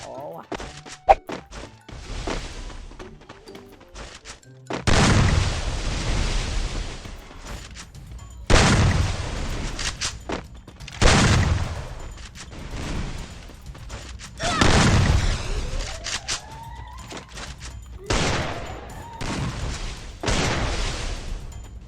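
Gunfire in a video game shooting match comes as loud bursts of shots, some rapid and some single, separated by short quiet gaps, with someone talking over parts of it.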